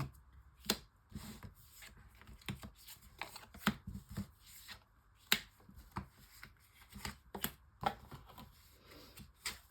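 Tarot cards shuffled for a nine-card reading, heard as soft, close, irregular riffles and slaps of the deck with no talking.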